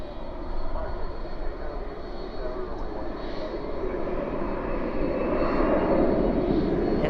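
A tri-jet airliner departs at night from DFW airport, its engines giving a broad, building roar that swells steadily over several seconds at a moderate distance, with faint background chatter.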